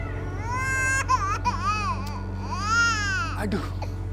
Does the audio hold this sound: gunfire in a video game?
no